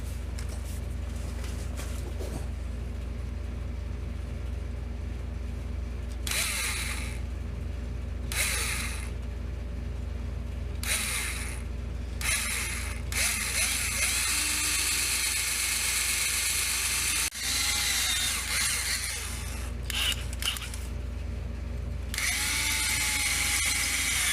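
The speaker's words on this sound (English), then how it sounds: "drill this hole in the plate" A drill whirs in short on-off bursts against a low mechanical hum while boring a hole in a plate on a 1947 MG TC, the spurts growing longer and more sustained toward the end.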